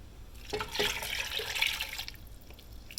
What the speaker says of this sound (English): Let's pour this broth over our potatoes.